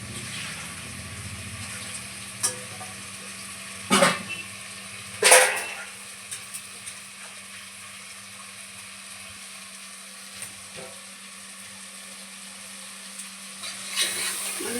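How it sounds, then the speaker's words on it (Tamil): Chicken meat sautés in oil in a pan for chicken kuska, giving a soft, continuous sizzle. A few sharp scraping stirs and clatters break in close by. "கொஞ்ச நேரம் கறி நல்லா வதங்கணும் ஃப்ரெண்ட்ஸ்."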